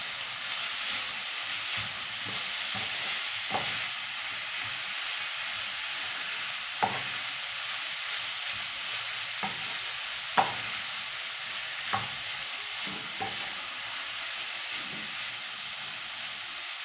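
A filling cooks in a pan with a continuous steady sizzle and hiss, broken now and then by brief clinks and scrapes of stirring, close and even in loudness.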